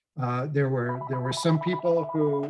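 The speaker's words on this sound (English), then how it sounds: "sorry about that phone call" A telephone rings with a steady, repeating electronic tone beneath someone speaking clearly and close throughout.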